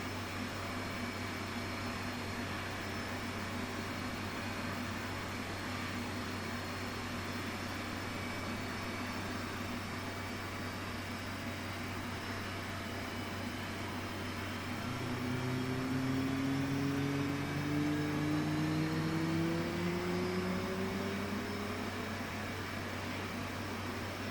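F/A-18 jet engine spinning up during a cockpit start in the DCS flight simulator: a steady mechanical hum and whine that rises in pitch about two thirds of the way through, moderately loud and continuous, with no voices.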